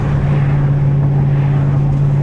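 A loud, cammed fifth-generation Camaro Z28 engine and exhaust drone steadily and continuously from close by, with a deep, even rumble and no pauses or talking.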